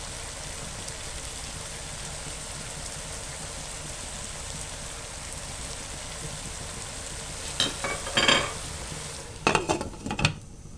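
A pot of potato achari dum sizzles over high heat under a clay-sealed lid, a steady frying hiss throughout, joined near the end by a few bursts of rattling as the pot is shaken by hand.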